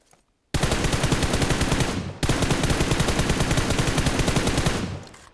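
Automatic weapon fire in a shooter video game: a loud, rapid, unbroken burst after a brief quiet start, a momentary break near the middle, then another long burst that tapers off.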